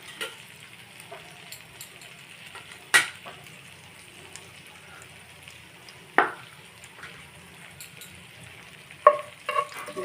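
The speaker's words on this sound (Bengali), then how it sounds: "তাতে পরিমাণ মতো তেল দিয়ে দিয়েছি এখন এতে আমি দিব জিরা ফোড়ন দিব তেজপাতা দারচিনি শুকনা লঙ্কা" Whole cumin, bay leaf, cinnamon and dried chili tempered in hot oil in a pan, with a steady soft sizzle and a few sharp clinks or stirring knocks, no talking.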